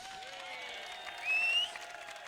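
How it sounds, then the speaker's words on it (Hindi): Faint applause from an audience at a Col. Fateh Khan Memorial Cup T20 cricket ceremony, greeting cricketer Abid Ali, a soft, brief wash of clapping with a short louder swell. "आपकी भरपूर तालियों में आबिद अली।"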